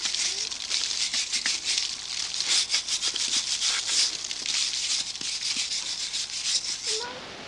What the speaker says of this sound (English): can take a wire brush, just scrape off all the excess.